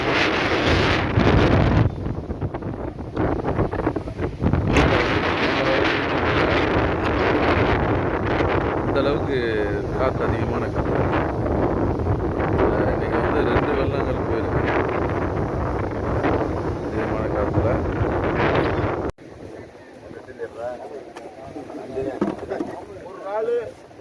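Strong wind buffets the microphone at sea, a loud continuous roar with water rushing beneath, and voices talking through it before it suddenly drops.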